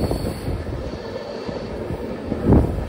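Passenger train rolling on the Vizag to Araku line, a steady rumble of wheels and carriages near and continuous, with a louder clatter swelling toward the end.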